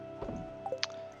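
Watering crops in the farming video game Stardew Valley produces short squishy splashes and drips over a steady in-game background tone, a few quick liquid sounds close together.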